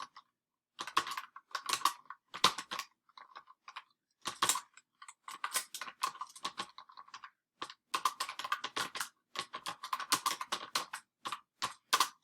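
Keys clatter on a computer keyboard in quick bursts of typing with short pauses between, close and fairly quiet, while a paragraph is entered into a Word document.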